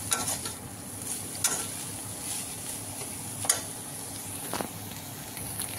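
Khoya, the milk solids left after rendering ghee from malai, is stirred in a pan to soften it. Soft scraping and stirring scuffs run steadily, with a few sharper clicks of the spoon against the pan and a faint low hiss.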